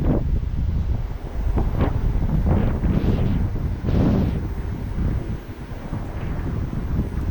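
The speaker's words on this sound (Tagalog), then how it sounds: "Mas napakalakas pa ng hangin." Strong wind gusting outdoors at a scenic lookout, heavy rumbling buffeting across the microphone with surging gusts, loud and continuous throughout.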